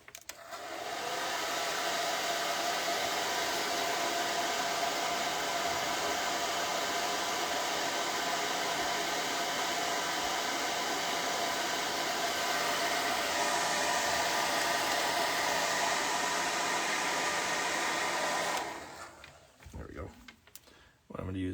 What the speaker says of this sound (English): I'm going to use a hair dryer.